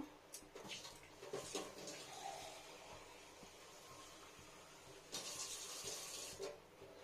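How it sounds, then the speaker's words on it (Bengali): Water being poured into a wok set on the stove for boiling potatoes, a hissing splash with two louder bursts of pouring amid steady steam-like hiss, no voices. "কড়াই বসিয়ে দিলাম, এবার প্রথমে জল দিয়ে নেব।"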